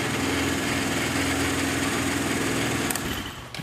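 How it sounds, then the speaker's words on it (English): A Linhai Bighorn 200 ATV engine idles smoothly and steadily up close, a constant low hum with light mechanical ticking that fades slightly at the end. "You can also see how quiet and how smooth this bike runs."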